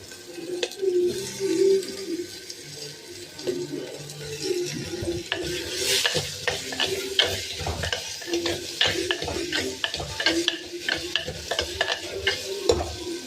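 Chopped tomatoes drop into a hot pan and sizzle loudly, with a busy run of clattering stirring strokes and scraping against the metal that grows denser over time.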